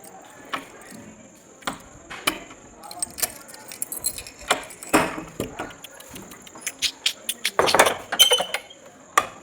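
A key pushed into a household door lock and jangling on its ring, giving a series of close, sharp metallic clinks and rattles that build into a busy cluster of jingles toward the end.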